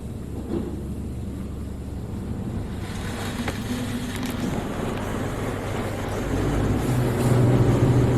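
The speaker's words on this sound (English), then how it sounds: "Oh no, there's high pressure wheel blasters." High-pressure wheel blasters at a Mark VII AquaJet XT car wash, heard from inside the car as a steady, loud roar of spraying water that swells toward the end.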